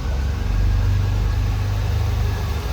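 A 1982 Chevrolet Citation X-11 engine idles steadily with a low, even hum and faint mechanical whir, close and continuous, with no talk over it.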